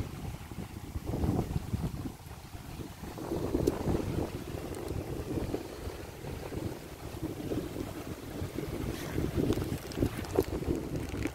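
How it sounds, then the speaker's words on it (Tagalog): Steady low rumbling wind buffeting a microphone outdoors at the seaside in Bahrain, with gusts rising and falling throughout and no talking. "Huwag kang hanginin. Hinahangin ka naman eh."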